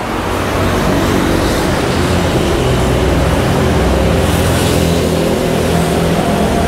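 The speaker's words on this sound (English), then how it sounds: "It's a couple of motorbikes making the noise here." A couple of motorbikes run on an early-morning Cairo street, a steady broadband engine and road roar that fills the whole stretch at constant loudness, fairly close, with no talk over it.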